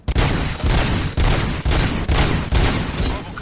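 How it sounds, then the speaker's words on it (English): Gunfire from the RoboCop film comes as heavy, loud bursts of shots, several long rattling volleys separated by short breaks, dense and booming. "Gunshots? What's going on?"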